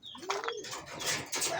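Pigeons coo softly nearby in short, throaty calls from a fly pen, with a few light chirps mixed in over a quiet outdoor background.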